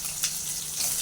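Curry leaves sizzle briefly in hot oil for a dried-fish curry, a steady close hiss with a short flare of crackle, no talking.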